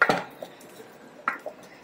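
A flour and butter roux is mixed in a pan, giving a few sharp scraping and clinking taps of a utensil against the cookware, close by and otherwise quiet.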